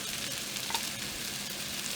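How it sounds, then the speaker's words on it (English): Vegetables and flour are stirred in a hot pan for shrimp stew, giving a soft, steady sizzle with a faint scrape of the spoon partway through. "when you're stirring it, make sure you stir the bottom so that it does not stick to the bottom"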